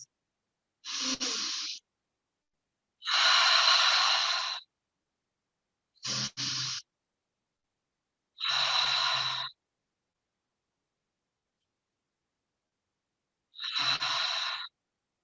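Five slow, deep clearing breaths at the end of a yoga session, each a long breathy exhale or inhale separated by silence, close and fairly soft.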